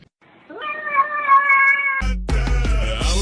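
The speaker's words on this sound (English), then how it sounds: "I can always tell when my cat is hungry" A hungry cat meows in a long, drawn-out plaintive call, loud and close, followed by a burst of unrelated music.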